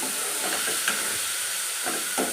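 Tomatoes frying in hot oil in a pan while making hotel-style chicken chops, a steady close sizzling hiss with a few soft stirring scrapes and pops.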